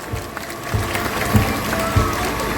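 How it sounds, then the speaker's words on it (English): An audience at a bird show at Jurong Bird Park in Singapore claps in a loose, moderate round of applause, with a regular low thumping under the crowd noise. "Let's give Raul a big round of applause"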